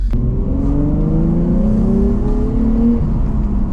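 A 2004 Nissan 350Z engine revs steadily upward past about 4,000 RPM, a loud continuous roar with rising pitch, heard close from inside the car.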